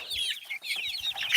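Roadrunner chickens on a farm cluck and chatter in quick, overlapping bursts close by, loud and busy with no talking.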